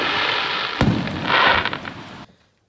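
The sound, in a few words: fireworks going off on bonfire night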